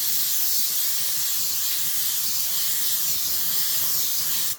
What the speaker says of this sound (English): Next, spray your piece black or grey, whatever colour you prefer.